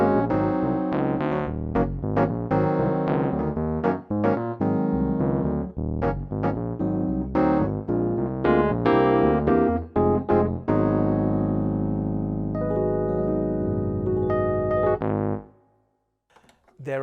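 Hammond SKX Pro organ played with tremolo added from the modulation wheel, sounding as loud sustained chords and quick runs that swell and hold before fading to near silence at the end.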